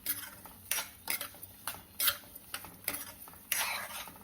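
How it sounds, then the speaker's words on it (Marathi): Semolina roasting in ghee in a pan on a low flame, stirred with a metal spoon that scrapes and clinks against the pan in repeated strokes about every half second, fairly faint and close, no talk. "जवळजवळ दहा मिनिटं तरी आपल्याला हा रवा छान आता खमंग परतून घ्यायचा आहे"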